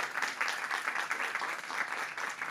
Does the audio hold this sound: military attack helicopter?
no